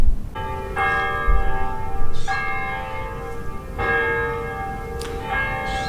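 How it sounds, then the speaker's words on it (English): Church bells ring out in a slow sequence of four resonant strikes, each sustaining and overlapping the last, heard clearly over faint outdoor background noise. "You can hear the church bells ringing."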